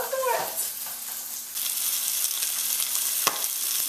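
A crispy-skinned salmon fillet sizzles steadily in a frying pan after being flipped, a continuous bright crackle with a few sharper pops and a brief clatter of utensil handling near the start.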